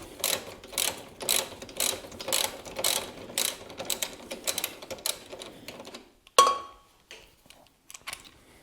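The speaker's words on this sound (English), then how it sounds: "To remove this big bolt here that holds the muffler." A ratchet with a 14mm socket loosens the big muffler bolt on a Yamaha Tenere 700, making steady rhythmic pawl clicks in quick strokes, then stopping and ending in a single sharp metallic clunk and faint handling noises.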